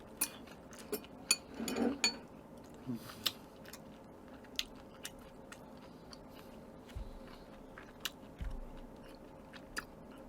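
Close-up chewing and crunching while eating yukgaejang, a spicy Korean beef soup, with scattered sharp bites and faint clinks of utensils against a quiet background.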